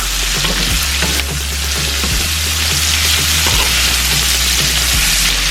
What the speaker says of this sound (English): Now we have our shallots caramelized. I'm gonna add our mushrooms